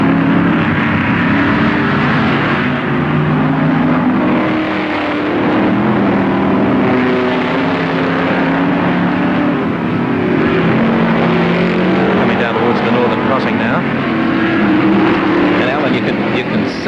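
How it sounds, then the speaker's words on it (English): A Ford Falcon GTHO races in a 1973 improved production touring car event at Warwick Farm, a continuous loud engine roar from the track heard under the running talk of a race commentator. "Car number 1, the Falcon GDHO, Ian Gagan at the wheel."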